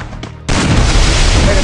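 Loud burst of gunfire in a shooting video game with an M1014 shotgun: a faint shot early on, then a sudden heavy blast that sustains as dense, booming noise for about a second.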